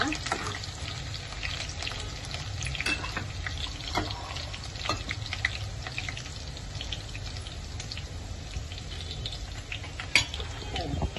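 Half an onion fries in a pan with a steady close sizzle and crackle, broken by small pops and light clinks, and faint speech in the background.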